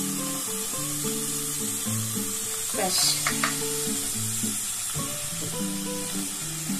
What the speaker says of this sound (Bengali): আর এবার আমি কি করবো দেখুন, একবার আবার একটুখানি উপর থেকে একটু তেল দিয়ে দেবো, সর্ষের তেল,